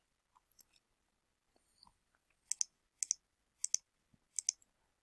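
A computer mouse clicks while someone edits a page in a website builder: a few light scattered clicks, then four crisp paired clicks in steady succession, close and isolated in a quiet room.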